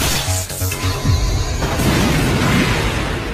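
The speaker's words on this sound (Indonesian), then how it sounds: "sihir yang tertanam di bawah tanah dan akan meledak saat ada yang melewatinya" Anime magic trap buried underground detonating as someone passes over it, a loud booming blast with rumbling low burst and crackling debris, following a brief whoosh.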